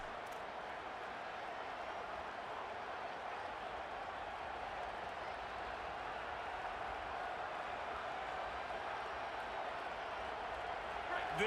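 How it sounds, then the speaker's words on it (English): Stadium crowd in the College Football 27 video game makes a steady, dense roar that holds evenly throughout, a broad wash of noise sitting beneath faint commentary. "This crowd ready to make its presence known."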